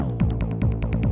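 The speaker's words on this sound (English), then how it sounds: "Now that is what I call a bass." Deep synth bass patch on an Elektron Syntakt drum machine, a low throbbing bass line pulsing in a quick repeating rhythm with clicky attacks, heard alone at moderate level.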